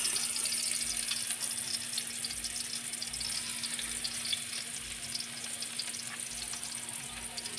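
Garlic sautéing in hot cooking oil in a home kitchen gives a steady, bright sizzle and frying hiss that carries on evenly without a break, close by and without any talking.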